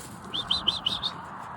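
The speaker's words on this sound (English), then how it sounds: "The birds coming back now." White and checker pigeons returning to the loft after flying give five quick, high chirps in a row, fairly close, over faint background noise.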